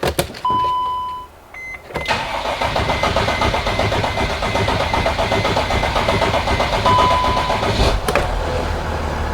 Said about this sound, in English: So right there, the engine started.